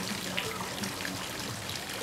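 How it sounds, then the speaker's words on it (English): Water sprays from a garden hose onto a lawn in a brief, constant soft hiss, near and even in level. "Hose. Yeah, it's a hose."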